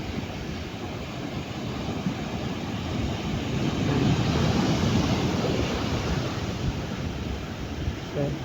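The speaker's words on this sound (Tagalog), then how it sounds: "sobrang laki po talaga ng alon" Big surf roars continuously with a low, churning rumble and wind buffeting the microphone, swelling louder toward the middle.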